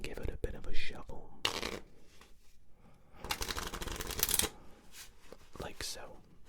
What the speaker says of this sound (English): we're going to take this deck and give it a bit of a shuffle